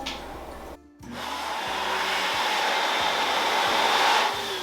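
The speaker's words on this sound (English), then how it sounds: "We put in these Alpine hand dryers, and they have UV lights in them." An Alpine hand dryer with built-in UV lights, installed in a handicap family-style restroom, blows with a steady loud whoosh after a brief pause, running continuously and close by.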